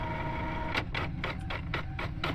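A printer runs inside a spooky video game, feeding paper with a steady series of rhythmic mechanical bursts over a constant low hum, close and fairly loud.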